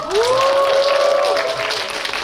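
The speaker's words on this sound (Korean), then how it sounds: "우리 배우분들이 총 출동했습니다. 박수 한 번 쳐주십시오." At a stage greeting for the Korean film Noryang, a cinema audience applauds the actors. A loud, drawn-out cheering voice rises over the clapping at the start, then the crowd noise carries on more softly.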